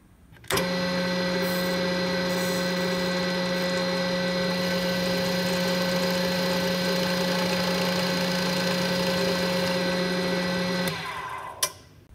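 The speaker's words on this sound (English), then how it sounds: "So I'm going to use a 3/4 of an inch Forstner bit." A power drill bores steadily with a 3/4 inch Forstner bit, a loud continuous whining motor tone that holds for about ten seconds before winding down, with no talking over it.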